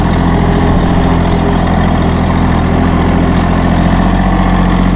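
A Massey Ferguson GC1725M sub-compact tractor's engine runs at a steady, loud idle-like drone in low range forward, continuous and close, with no talking.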